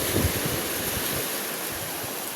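Waves washing onto a seashore under an overcast, gloomy sky, a continuous close roar of surf with wind buffeting the microphone, loud and unbroken, with no voices.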